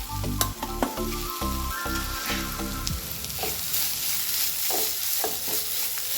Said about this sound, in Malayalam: നമ്മൾ തേങ്ങ ചിരകി വെച്ചത് ഇട്ട് കൊടുത്തൊന്ന് ഇളക്കാം